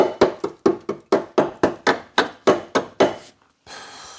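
Hammer blows hammering the rusty bodywork of a Mitsubishi Pajero Junior, a dozen sharp metallic strikes in a steady rhythm, loud and close, followed by a short pause and a low rustling.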